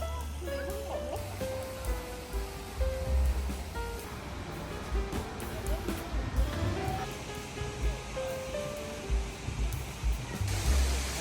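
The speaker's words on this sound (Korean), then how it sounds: "시원하게 떨어지는 물소리를 들으니 마음속까지 시원해집니다." Water pouring down Hongjecheon's artificial waterfall in Seoul, a steady broad rushing roar, with scattered background sounds and faint tonal noises over it.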